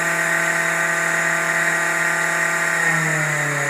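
An Optronics lens edger grinds a safety bevel onto an eyeglass lens, giving a steady mechanical whine with layered tones that holds constant throughout, close and alone.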